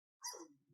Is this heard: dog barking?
yes